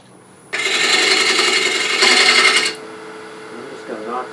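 A half-inch gouge cuts a dovetail on a cherry bowl on the lathe, a loud rasping scrape that starts abruptly, holds for about two seconds, then drops to a quieter scratching.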